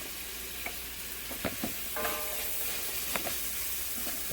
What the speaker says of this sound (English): while my onion and ginger are sauteing